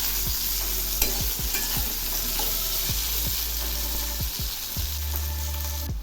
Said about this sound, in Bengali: সবজিগুলো ভাজা প্রায় হয়ে আসছে।